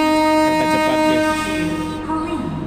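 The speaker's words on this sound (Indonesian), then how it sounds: "Klakson kereta." Train horn at a railway station, a loud sustained multi-tone blast ringing close with station bustle and rail noise beneath it, fading near the end.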